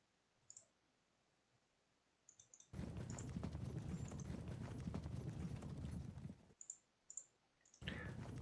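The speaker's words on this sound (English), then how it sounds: "but then we can countercharge with our horse." In the Pike and Shot video game, massed horse cavalry countercharge with rapid hoof clip-clop clatter that swells, breaks off and returns, against a faint background with a few small interface clicks.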